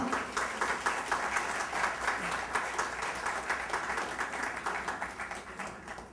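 Audience at an Urdu mushaira poetry gathering applauds poet Dr. Sabiha Saba with dense, steady clapping that swells and carries on throughout, loud and continuous with no talking over it.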